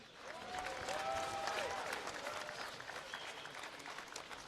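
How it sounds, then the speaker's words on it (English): Audience applause for both fighters at a professional boxing event, a fairly faint, sustained wash of clapping and crowd noise that swells and then holds, with a few whistle-like tones over it. "at first please applause to both fighters."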